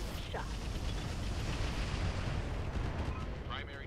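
Mech weapons fire in the Roguetech video game as a dense, continuous rumbling barrage of blasts, loud and sustained throughout with little break.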